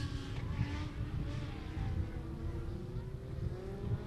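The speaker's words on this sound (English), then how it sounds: "The Onyx Legends are firing, they're underway" Legends race cars at Beckley Motor Speedway pull away for a hot lap, engines droning and revving steadily up, moderately loud and somewhat distant, with a faint voice under the noise.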